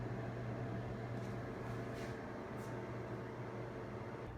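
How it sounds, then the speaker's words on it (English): A Swash Express Clothing Care System runs with a steady, even hum much like an air conditioner, droning at a constant low level with a few faint ticks and nobody talking. "now it just kind of sounds like an air conditioner"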